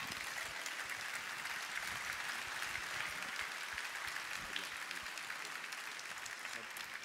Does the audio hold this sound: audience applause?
yes